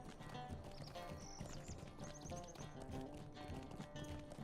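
Horse hooves clip-clopping in Lord of the Rings Online, a quiet, steady trotting rhythm of hoofbeats under faint game sounds and a few soft whinnies.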